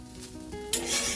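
Rice being fried or reheated in a home kitchen pan, a soft scraping stir with a gentle sizzle that swells louder and brighter in the second half, close by with no talk.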